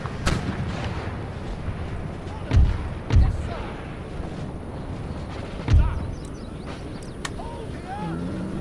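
Cannon and musket fire from a battle in Empire: Total War, several deep booming cannon blasts spaced apart over a continuous rumble of distant gunfire and battle noise.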